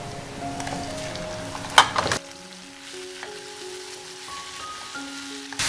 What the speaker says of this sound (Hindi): चिकन को हम लहसुन के अंदर अच्छे तरीके से फ्राई करेंगे